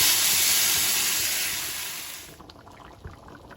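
Water poured into a pan of soybean and potato curry, a loud steady hissing rush that fades out after about two seconds, leaving a quieter simmering background.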